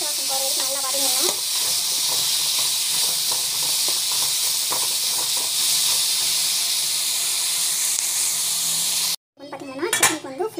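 Mango and chicken sauté in a pan with a continuous loud sizzle and hiss, punctuated by scraping and clinking of a spatula against the pan, before a brief cut to a voice speaking.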